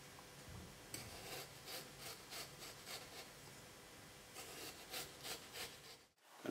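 A knife slices through small potatoes for Swedish-style hasselback potatoes, giving a quiet run of repeated scraping, rubbing cuts at a steady kitchen-board rhythm. The strokes are faint and close, with no talk, and the clip ends abruptly.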